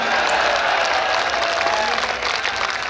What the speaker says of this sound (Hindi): तालियां जरा मिलकर बजा भाई